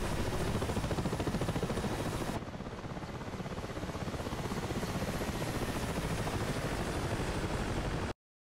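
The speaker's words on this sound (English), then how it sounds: "Not exactly a nimble aircraft to fly, the old MI-8" An old Mi-8 helicopter flies in the DCS combat flight simulator, its rotor and turbine making a continuous loud thrumming drone that dips slightly partway through and then cuts off abruptly at the end, with no voices.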